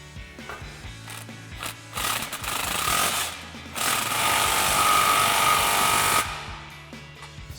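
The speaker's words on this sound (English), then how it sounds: "go ahead and snug this clamp down again" Ratcheting power tool snugging an exhaust clamp on a slip joint of a Ford F-150 exhaust, in bursts of broadband grinding and buzzing that build into a long steady run, then stop, close and loud with no talk.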